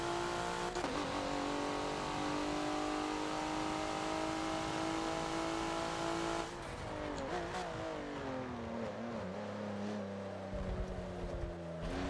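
A race car in Forza cornering around the Homestead super mini track, its engine holding a steady high drone, then dropping and revving back up as it exits the turn with faint tire noise.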